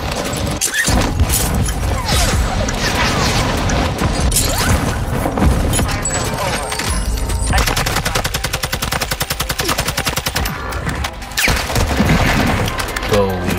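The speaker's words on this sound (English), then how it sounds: "they just keep shooting me, dude" Rapid automatic gunfire from a TAQ-56 rifle and other weapons in Warzone 2 on the Vondel map, near and continuous with dense bursts, crashes and booms throughout, with faint voices beneath.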